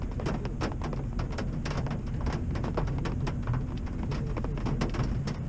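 Steady rain patters on surfaces around a campsite during a truck camping trip in Shenandoah, a dense continuous hiss with scattered sharper drop taps, heard alone at moderate level throughout.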